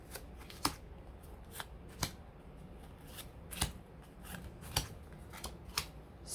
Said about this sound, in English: I'll shuffle more for whatever we got next